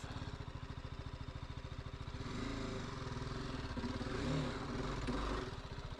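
A 2023 BMW G 310 GS single-cylinder motorcycle labors up a steep hill, its engine putting out a fast, throbbing chug that builds into a strained rev midway. Recorded close and fairly quiet, with no voices.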